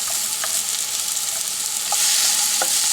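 Red onion sizzles in a frying pan over medium-high heat for a seafood fettuccine sauce, a loud continuous hiss with a few faint scrapes of stirring.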